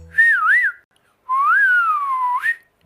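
A person whistles two melodic phrases, the first a short wavering trill and the second a longer gliding tune, clear and close with a brief pause between them.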